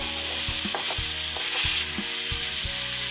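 Ingredients sizzle steadily in a pan over a high flame while preparing bread roast, with periodic stirring knocks and scrapes of a utensil, close and continuous.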